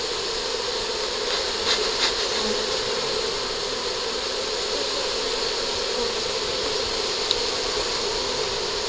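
A honeybee swarm moves into a small Warré hive outdoors, giving a steady, even buzzing hum that holds throughout with no talk.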